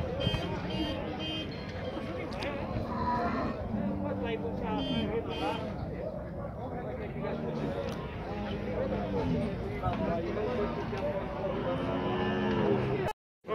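Cattle mooing at a livestock fair in Tabira, Pernambuco, several low drawn-out calls recurring over a busy crowd, with people talking and bargaining loudly throughout.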